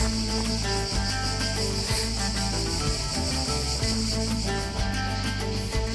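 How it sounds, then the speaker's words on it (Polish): Dense, continuous insect buzzing and shrill chirring fill the air, loud and unbroken throughout, with no talking. "Będą nam dzisiaj towarzyszyły cykady."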